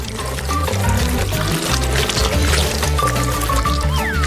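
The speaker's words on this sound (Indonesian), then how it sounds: "Selanjutnya, kita bisa menuang coklatnya ke dalam cangkir." Hot chocolate poured into a cup, a steady liquid pour with light trickling heard over continuous background music.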